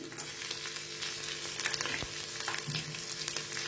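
Garlic and green chillies sizzle in hot oil with peanuts in a pan, a close, steady crackling fry with occasional stirring scrapes and spatters.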